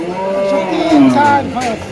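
A single close, loud cow moo, a drawn-out low bellow lasting under two seconds, from a beef cow at a cattle market in Barura, Cumilla.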